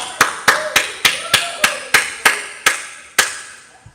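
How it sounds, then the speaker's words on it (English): Eleven sharp hand claps ring out one at a time at a slightly uneven, slowing pace, close and loud with brief decays between, no voices over them. "You deserve a round of applause"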